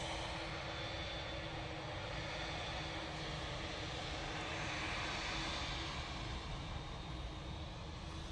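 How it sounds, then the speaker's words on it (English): TUI Boeing 787-9 Dreamliner jet engines at Manchester Airport, a steady broadband roar that holds at an even level throughout, with no voices over it. "TUI 787-9 Dreamliner now coming on right in front of us"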